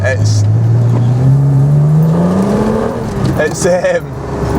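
A 25-year-old European-market BMW M3 track car's engine hums low and climbs steadily in pitch as it revs, loud and close, with a voice briefly cutting in near the end.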